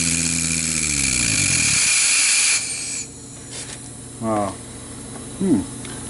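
A small engine fitted with a muffler drones steadily with a harmonic hum for about two seconds, then cuts out, leaving faint background noise and a few brief tonal chirps.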